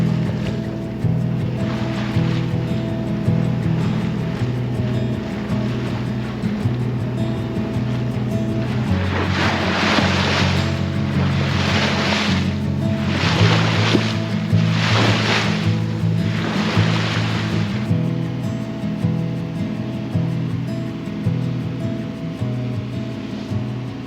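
A sailing boat crossing the narrow strait between Bali and Lombok, with a continuous rush of waves and water along the hull over a low steady engine-like drone, broken by several louder surging washes midway.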